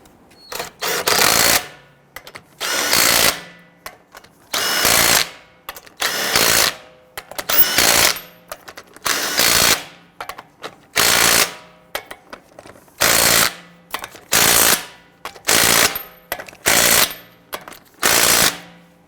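A power tool tightens the wheel lug nuts on a 2007-2014 Cadillac Escalade in about a dozen sharp, rattling bursts. Each burst lasts about a second, with short gaps between, loud and close, and no voices.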